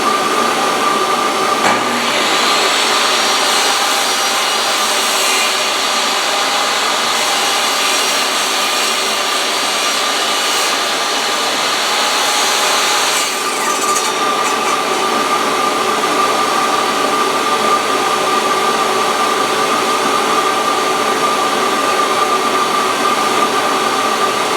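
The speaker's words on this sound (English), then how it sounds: "Turn my vacuum on." A shop vacuum roars continuously during a woodworking build of a DIY bookshelf, a loud steady broadband whoosh with a brief extra burst of noise near the start and a slight shift partway through.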